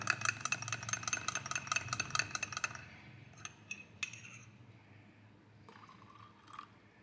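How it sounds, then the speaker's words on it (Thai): Coffee mixture stirred in a pitcher for Thai-style iced coffee (es yen), with a rapid run of light clinking and sloshing for about three seconds, then sparse taps and quiet handling noises. "เราก็จะทำการเอาตัวกาแฟที่เราได้เนี่ยนะครับ เข้ามาผสมใน พิเชอร์ของเราที่เตรียมไว้นะครับ คนก่อนเล็กน้อย"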